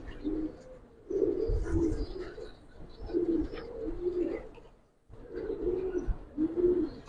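Giribaz pigeons in a loft coo in repeated low, rolling phrases, close and steady, with short pauses between bursts and no talking.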